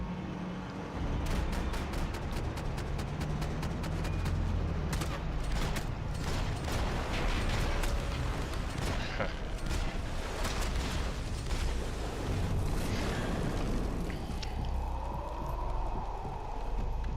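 Gunfire in the video game Max Payne 3 erupts in dense rapid bursts of shots and booming impacts, heavy and continuous over a low rumble, with a loud chaotic mix of combat noise from start to finish.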